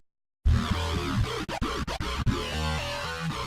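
Synth bass from the Synth1 soft synth run through a flanger plugin, a sustained buzzy tone starting after a brief silence, with several short dropouts midway before holding steady, heard alone without voices.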